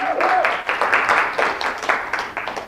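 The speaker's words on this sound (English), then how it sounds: "I want you to give that a hand clap." Audience hand clapping fills the room, a dense steady patter that holds through and tapers slightly near the end, with a brief voice at the start.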